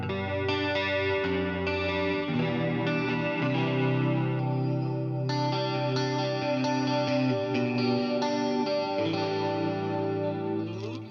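Distorted electric guitar chords ring out loud and sustained, with a thick, gritty tone and a slight swirling effect, played alone without voices.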